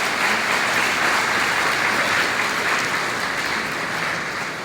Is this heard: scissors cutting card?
no